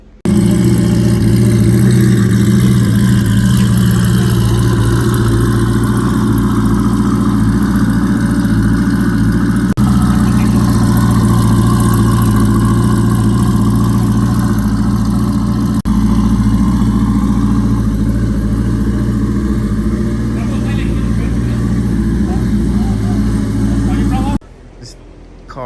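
A turbocharged LSX engine in a truck runs on a dyno, a loud steady low drone holding for about twenty-five seconds before cutting off abruptly, with voices talking over it.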